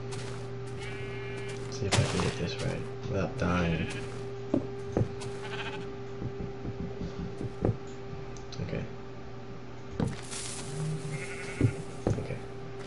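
Sheep bleat repeatedly in Minecraft, with short, fairly loud cries scattered across the scene among clicks and game sounds, while someone talks intermittently.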